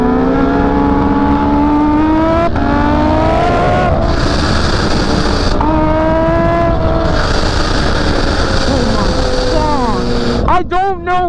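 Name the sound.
Kawasaki Ninja H2 motorcycle riding at full throttle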